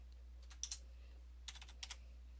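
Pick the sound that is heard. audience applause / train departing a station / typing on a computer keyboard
typing on a computer keyboard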